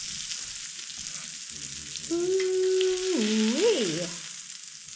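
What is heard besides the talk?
steaks searing in a pan with butter and thyme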